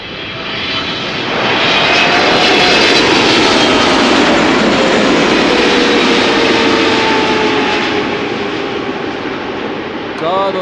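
Jet airliner on approach to Amsterdam Schiphol Airport, a loud broadband engine roar rising, holding and slowly fading as it passes close by, with a faint whining tone shifting beneath it.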